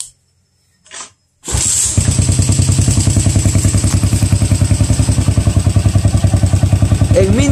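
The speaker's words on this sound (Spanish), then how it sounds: "Voy a arrancar la motocicleta." A motorcycle with a suspected battery-charging fault starts with a thud and a brief crank, then settles into a steady, close, loud idle with even rhythmic pulsing. A faint high whine is heard near the end.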